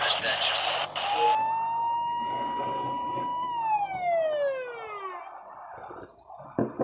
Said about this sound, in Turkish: Şimdi polis sesi gelecek.